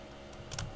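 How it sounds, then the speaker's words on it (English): Several quick keystrokes on a computer keyboard while code for face tracking in OpenCV is written on a Jetson Nano, with soft clicks over a steady background hum. "I like it when it pops up because that usually means I'm typing it right."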